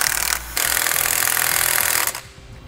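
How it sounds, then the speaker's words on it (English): A 7/16 wrench and socket tighten quarter-inch lock nuts on an RV air brake assembly, giving a loud, harsh ratcheting buzz that starts, breaks off briefly, then continues before fading out. "Now using a 7/16 wrench and socket, I'm going to tighten these up."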